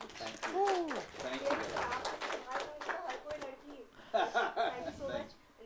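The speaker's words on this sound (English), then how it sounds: "Can you please clap?" An audience claps at a press meet for the Hindi film Sirf Ek Bandaa Kaafi Hai, with scattered hand claps running beneath steady nearby talk and a brief burst of clapping near the end.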